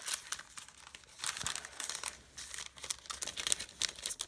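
Primo paper crinkles and rustles as it is stuffed into a package, irregular close-up bursts of crackling handling that swell and fade, with no talk.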